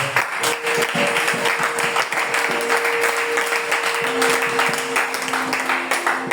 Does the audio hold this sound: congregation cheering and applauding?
yes